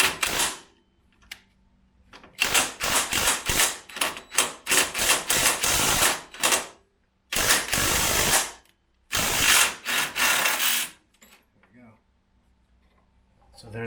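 Impact wrench spinning off a nut behind a sway bar bracket on a BMW X3, loud repeated hammering bursts in several runs with pauses between them, close up and without talk.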